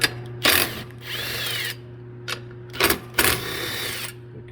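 A power driver backs screws out of a Polaris RZR 1000 XP primary clutch, sounding as several short whirring bursts of varying length with brief pauses between them.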